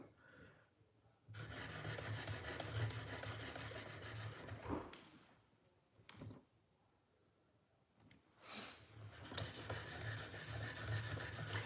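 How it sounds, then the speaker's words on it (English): Benchmade Bugout knife blade stroked on a Work Sharp Precision Adjust angle sharpener, giving steady close rasping strokes in long runs with brief pauses between passes, no talk. "we are working on sharpening our Benchmade bug out using our precision adjust angle"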